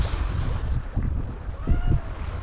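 Gusty wind buffets a sailing boat under sail at sea, with low rumbling gusts swelling and fading against a constant rush of water and air.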